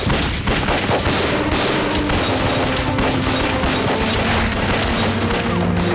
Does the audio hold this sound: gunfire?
yes